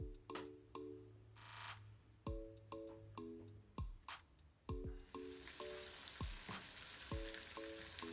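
Onion fries quietly in oil for oil rice, a faint low sizzle beneath a series of sharp, ringing taps and clicks, with the hiss growing a little brighter partway through.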